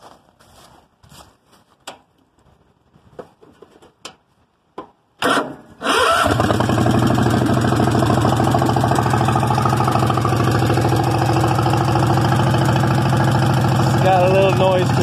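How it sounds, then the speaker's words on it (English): A 20 hp Kohler V-twin engine in a homemade extreme mud mower cranks and catches around six seconds in, then settles into a steady, loud, rumbling idle with a slight exhaust-leak rasp. Brief talk and handling noises come before it starts. "20 horse Kohler V-twin in there."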